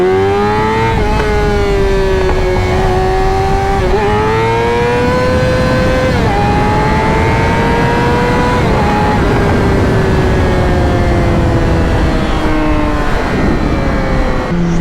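KTM dirt bike engine revving hard and continuously during wheelie practice, loud and close, with pitch rising and dropping repeatedly as the throttle is worked.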